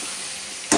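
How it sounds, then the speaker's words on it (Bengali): Vegetables for khichuri are lightly fried in a pan while cooking for a home Lakshmi Puja, giving a steady close sizzle that ends in a brief louder hiss and stir. "এখানে খিচুড়ি সবজিগুলোকে একটু ভেজে নিচ্ছিলাম হালকা করে"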